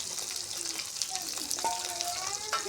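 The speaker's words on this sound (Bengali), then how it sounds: "এটা এখন ভাজে নিব।" Cumin, chopped garlic, onion and green chili frying in hot oil, a soft continuous sizzle with faint stirring scrapes close by.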